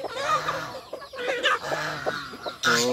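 Chickens in a farm coop cluck busily at feeding time, a dense overlapping chorus of fowl calls, steady and fairly close.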